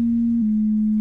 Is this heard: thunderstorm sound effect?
no